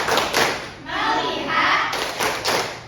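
Primary schoolchildren in a classroom doing a rhythmic clapping chant, short bursts of group claps and thumps between chanted words, close and loud.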